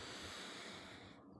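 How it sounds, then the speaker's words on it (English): Slow breathing in through both nostrils during a meditation exercise, a soft, steady airy rush heard faintly and up close, tailing off at the very end. "Now we're going to breathe both nostrils into the blue channel, the central channel"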